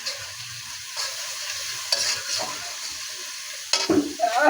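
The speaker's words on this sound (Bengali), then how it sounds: "এখন দিয়ে দেব কুচি করা কাঁচামরিচ, পেঁয়াজ আর মেয়াজ দিয়ে মিশিয়ে দেখতে পাচ্ছি।" Chopped green chillies and onion frying and being stirred in a pan for a prawn bhuna, a steady close sizzle with scraping spoon strokes and a louder stir near the end.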